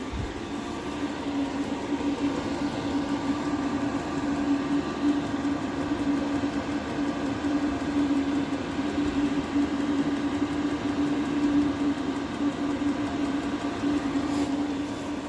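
A diesel heater runs and blows air, producing a steady, unbroken mechanical drone with a prominent low hum and airy rush throughout, loud and close.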